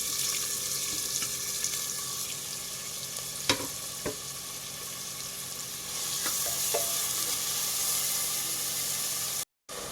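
Finely chopped onion frying in a pan with cloves and garlic, sizzling steadily at close range. It is broken by a few sharp scrapes and clinks of stirring, and no one speaks.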